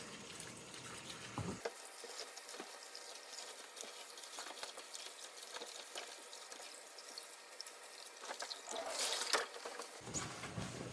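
Thinned daikon radishes are washed one at a time in a basin of water, giving soft sloshing and splashing with small scattered drips and clinks, a brief louder splash burst near the end, no voices.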